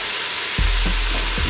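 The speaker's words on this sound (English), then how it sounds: "Just give them a quick stir fry." Scallions and carrots are stir-fried in a pan for a spicy Korean-Chinese seafood soup, with a steady close sizzle and a few soft scrapes and stirring knocks.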